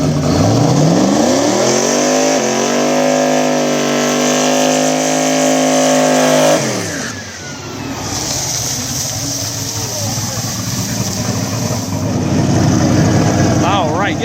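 A single-turbo LS New Edge Mustang on a drag strip makes a loud, close run: the engine screams steadily upward for about six seconds, then cuts into a rough, rumbling roar that swells again.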